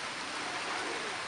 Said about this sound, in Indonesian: Ini cuacanya hujan, enak gini.